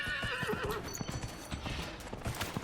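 A horse in Dragon Age Inquisition gallops with rapid, rhythmic hoofbeats, and a whinny rings out early on, all fairly close and moderately loud.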